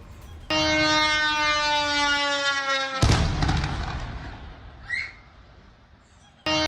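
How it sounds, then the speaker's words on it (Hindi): A drone attack on a US base in Erbil, Iraq: a long, steady wailing siren tone breaks off into a sharp, loud boom, then a rumbling decay with a faint distant thud after it and another burst at the end. "ड्रोन अटैक के बाद अमेरिकी बेस पर बड़ा धमाका होता है, ये देखिए आप"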